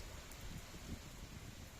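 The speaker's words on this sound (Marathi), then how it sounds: "जालना जिल्हाभरामध्ये मागील 4 दिवसांपासून जोरदार पाऊस होत आहे" Heavy rain pours steadily across farmland during days of continuous downpour, a dense, even hiss with no breaks, heard faintly and alone.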